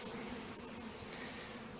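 Faint, steady buzz of honey bees gathered into a box during a farm bee removal, a soft continuous drone with no voices.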